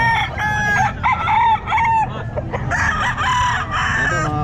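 A Sweater gamefowl rooster crows at a crowded pet market, several loud drawn-out crows in close succession with other birds calling nearby and constant background chatter underneath.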